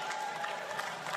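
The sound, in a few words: audience applause at a basketball game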